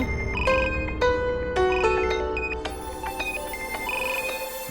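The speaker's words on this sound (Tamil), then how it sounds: "அந்த கண்ணாடிக்கார நடராஜனோட போன் கால் தாண்டி" A phone ringtone plays as a melodic tune of repeated electronic tones in a television drama scene, loud and steady, with music-like notes and no talk over it.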